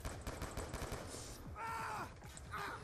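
Rapid, faint bursts of gunfire crackle in quick succession in the Black Ops 2 video game campaign, a short spray of shots lasting under three seconds.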